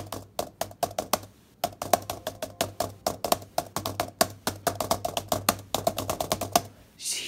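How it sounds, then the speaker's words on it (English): Loud, rapid clacking of laptop keys in uneven bursts, close up, with a brief pause near the start and no talking. "And that's just regular typing."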